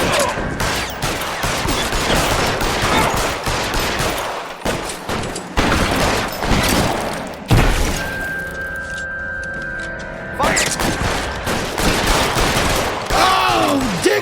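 Dense, loud gunfire in L.A. Noire, with continuous overlapping shots and booms in a sustained firefight, a brief lull partway through, and no talking.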